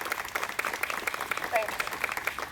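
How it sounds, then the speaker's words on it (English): Audience applause for servicemen and women at a street co-naming ceremony, a steady crackle of many hands clapping with voices mixed in beneath. "We can continue our round of applause."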